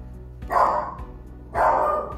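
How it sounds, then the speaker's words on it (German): A dog raising the alarm at the mail carrier gives two loud, close barks about a second apart, with a steady low background hum between them. "Hört ihr die Motte bellen?"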